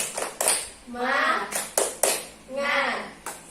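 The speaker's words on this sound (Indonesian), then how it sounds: "Ibu ada tepuk semangat nih" A fifth-grade class performs a rhythmic spirit clap, with sharp bursts of group clapping in a set pattern alternating with a voice chanting between them.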